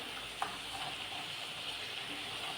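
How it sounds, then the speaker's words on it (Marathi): Three puris deep-frying in a small kadhai of hot oil, a soft steady sizzle with one faint clink early on. "माझी छोटी कढई असल्यामुळं मी इथं 3 पुऱ्या टाकून तळत आहे."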